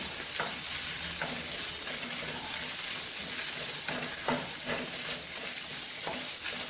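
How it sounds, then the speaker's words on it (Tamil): Garlic and onion sautéing in a pan for mushroom brinjal kurma give a dense, steady sizzle, close and loud, with a regular series of spatula scrapes and stirs running through it. "பூண்டு வெங்காயம் நல்லா வதங்கட்டும்."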